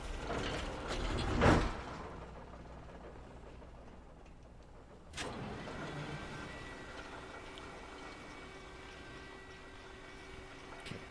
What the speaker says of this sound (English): Oh, great. Another cable car.